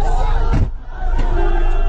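Crowd shouting and yelling loudly as a BJP convoy carrying party president JP Nadda is attacked in West Bengal, rising in bursts with a brief dip before the clamor swells again.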